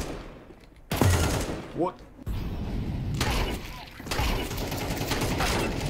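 Gunfire from the video game Counter-Strike 2 arrives as dense automatic bursts and impact cracks with a short rising effect, loud over game ambience while a player talks over it.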